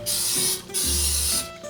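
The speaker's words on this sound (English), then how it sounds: "Just like using a can of spray paint." Spray can hissing in a kitchen while a cake is being made, heard as two long bursts and a short final puff with a faint tone underneath.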